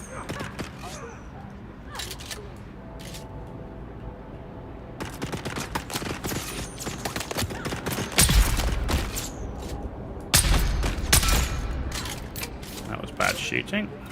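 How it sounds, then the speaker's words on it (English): Gunfire in a video game set on the desert planet Arrakis: rattling bursts of automatic shots and heavier blasts come in clusters, loud and close, with mechanical creaks and clatter between them. "Bad shooting."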